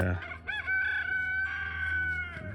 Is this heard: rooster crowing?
yes